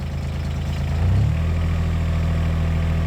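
A Takeuchi TB016 mini excavator's engine idles with a low, steady drone, then revs up about a second in and holds a higher, even pitch, close and continuous.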